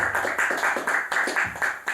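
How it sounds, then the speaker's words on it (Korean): A church congregation clapping during a sermon, a steady, rhythmic run of sharp claps close and fairly loud with no talking over it. "여러분 옳다고 인정하시면 박수 좀 쳐주세요"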